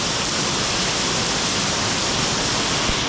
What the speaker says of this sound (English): It's like a waterfall almost right there.